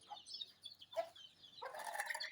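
Young chicks calling in short, high-pitched bursts, intermittent peeps and chirps up close with brief quiet gaps between, and no talking.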